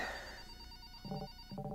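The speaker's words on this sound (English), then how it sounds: "Your phone's ringing." A phone ringing in the video game RE:CALL, two short electronic ring bursts about half a second apart following a fading tone, moderately quiet with no speech.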